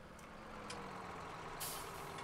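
Tractor engine, a 7600 model in a farming roleplay video game, runs steadily with a low drone, and a sharp hiss of air brake release bursts out near the end; no talking.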